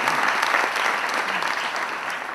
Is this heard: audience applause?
yes